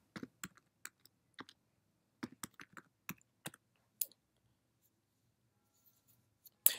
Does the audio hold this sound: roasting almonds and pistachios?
no